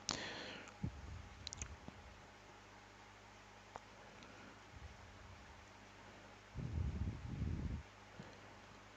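Computer mouse clicks sound faintly and sparsely in a quiet room during spreadsheet work, a few isolated soft clicks with a brief burst of rustling handling noise near the end.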